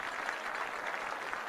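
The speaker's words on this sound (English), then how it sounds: "Hayes High crowd with a round of applause for the Indian senior defensive lineman" Crowd applauding at a Hays High football game as an injured senior defensive lineman is helped off, a steady even patter of clapping heard from a distance, fairly faint and without distinct cheers.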